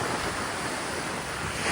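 Sea waves roll in at a beach resort campsite, a broad, constant roar of surf mixed with wind buffeting the microphone, loud and unbroken with no voices.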